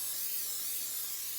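Cooking oil spray hisses steadily onto glazed butternut squash and potatoes, a close, continuous spritz with no talk.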